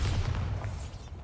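Bombarda blasting spell cast in Hogwarts Legacy, a short, low, rumbling burst of explosion that fades out within about a second.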